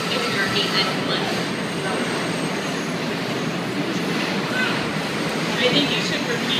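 A train rumbles by continuously and loudly, a dense roar of wheels and rail noise with faint squeal that masks the room, as people gather for a debate.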